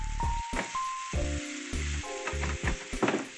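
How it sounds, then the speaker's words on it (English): Ground beef sizzles in a pan while being mixed, a close frying hiss cut by scraping stirs, with sustained tonal music running underneath and no speech. "Mixing up the ground beef."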